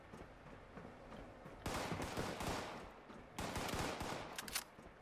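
Rapid automatic fire from a modded commando rifle with a quick magazine in Fallout 76, coming in two dense bursts a moment apart, moderately loud over quieter game ambience.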